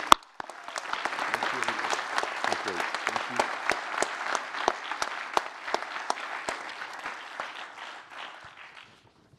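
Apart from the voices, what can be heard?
audience applauding a medal recipient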